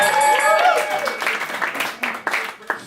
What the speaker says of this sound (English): Audience, give a round of applause for the second round.